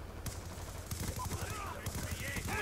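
Rapid machine gun fire in the video game Call of Duty Black Ops 2, bursts of quick shots over continuous game noise, with faint game audio throughout.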